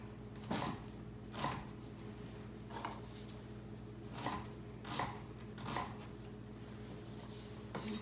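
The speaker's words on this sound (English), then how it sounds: "And then once you get to the end, you can just chop it up." Vegetables are chopped and diced with a knife on a board while making broccoli cheese soup, giving soft, regular taps roughly every second or so, close but fairly quiet, with no one speaking.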